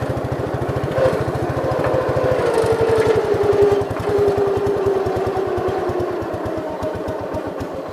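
A 1969 Gravely 430 tractor engine idles roughly with a loud, close, rapid putter whose pace wavers slightly and never settles into a smooth run.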